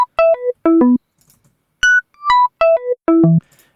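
Descending arpeggio on an FM sine-wave synth, bell-like notes falling in quick groups of four, repeated twice with soft delay echoes trailing each note, close and without voices.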